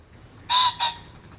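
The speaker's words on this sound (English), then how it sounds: "The answer is a ring-necked pheasant." A ring-necked pheasant gives a loud, harsh two-part crow, a longer burst followed quickly by a shorter one, close and clear against a quiet background.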